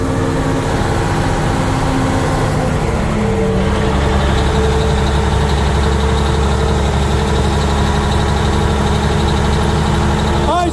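Heavy military truck (M818) with tall 16R20 tires cruising on the road, its low diesel engine droning steadily and loudly throughout at easy throttle with no talk.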